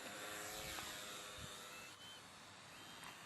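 Parkzone Ultra Micro P51 radio-controlled airplane taking off outdoors in wind: a faint, thin electric motor and propeller buzz that rises in pitch, with wind rumble and buffeting underneath.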